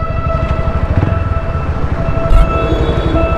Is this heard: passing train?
yes